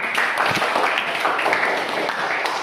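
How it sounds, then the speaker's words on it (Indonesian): Classmates applaud a fellow student in a classroom, a brief, fairly steady burst of clapping from a small group throughout. "berikan tepuk tangan kepada teman"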